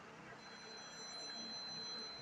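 A telephone rings with a steady electronic tone through a quiet room, continuous and moderately faint for a couple of seconds, with no one speaking over it.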